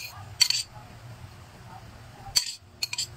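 A spoon clinks against a bowl while mango, onion, ginger and chili are mixed for tawilis fish kinilaw, two or three sharp metallic taps over a quiet background.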